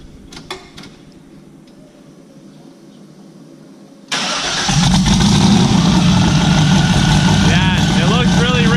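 A boosted drag car engine cranks and fires on a dyno, catching abruptly into a loud, steady rumbling idle after faint clicks; voices talk briefly before it starts.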